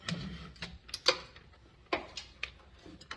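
A ratchet wrench with a 13 mm socket on a long extension turns out a bolt during an axle seal replacement, giving quick, uneven bursts of light metallic clicking close by.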